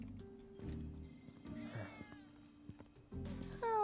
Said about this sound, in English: You're a black cat, aren't you?